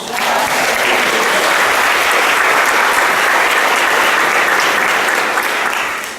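Church congregation clapping hands together during a baptism service, steady dense applause filling the space at a constant level from start to finish, with no voices standing out.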